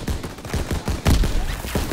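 Rapid machine gun fire in the World War II shooter game Call of Duty WWII, a dense burst of shots, loud and continuous throughout.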